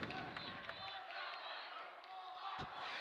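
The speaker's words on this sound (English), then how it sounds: "this crowd is loud and they are fun" A loud, steady crowd roar fills a high school boys basketball gym during a Balko at Timberlake game, with brief sharp thuds and a commentator talking over it throughout.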